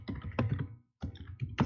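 Keys clatter in quick bursts on a computer keyboard, with a brief silent gap between the bursts of typing.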